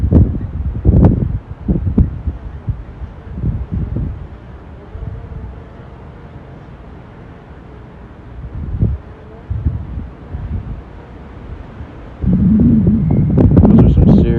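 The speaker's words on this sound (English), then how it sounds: "Those are some serious gust winds" Strong, gusty wind during a DJI Air 2S drone flight test as a thunderstorm rolls in, heard as irregular low rumbling bursts that batter the microphone and swell into heavy, sustained roaring buffeting at the end.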